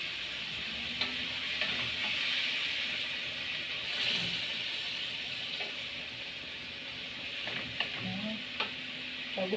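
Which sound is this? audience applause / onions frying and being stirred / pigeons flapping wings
onions frying and being stirred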